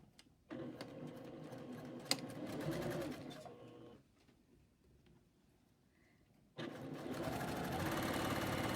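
A sewing machine stitching a 3/8 inch seam on a garment, whirring steadily in two close runs separated by a short quiet pause.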